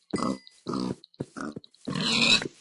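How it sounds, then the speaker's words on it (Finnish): Repeated pig grunts from the video game Minecraft, four short bursts in a row with brief gaps, the last one longer and louder, close and clear with no talking. "Sikoja. Bacon."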